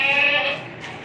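A healthy, clean adult goat gives one close, loud, sustained bleat that fades toward the end, with faint background noise behind it.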